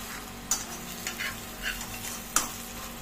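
Raw potatoes fry quietly in a pan over a low flame, a soft continuous sizzle with a few light stirring scrapes and clinks.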